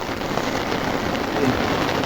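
Heavy rain pouring down outdoors where buffaloes are kept, a dense, loud, continuous hiss of drops hitting the ground and surfaces, with no voices.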